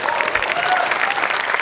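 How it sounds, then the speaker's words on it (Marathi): Loud, dense applause from a studio audience after a comedy sketch performance, steady clapping throughout without a break and no voices over it. "एकदा जोरदार टाळ्या या बहारदार परफॉर्मन्ससाठी."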